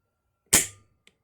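A single sharp gunshot, close and loud, with a quick decaying crack and a faint click shortly after, otherwise silence.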